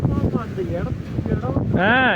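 Wind buffets the microphone at a hilltop viewpoint, a steady loud rumble that runs the whole time beneath a person talking close by.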